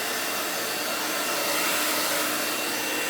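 A hot-air blower is aimed at wet red, green and gold acrylic paint for a Dutch pour, making a steady, loud, close rushing whoosh with no breaks.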